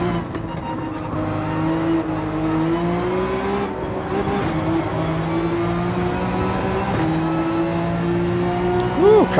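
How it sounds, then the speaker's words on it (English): Race car engines in Gran Turismo 7 drone and rev continuously, pitch rising and falling with gear changes, another car audible close behind, with a voice talking over the engine noise. "Car behind us sounds fantastic."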